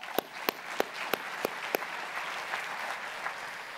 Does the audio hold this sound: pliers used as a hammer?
no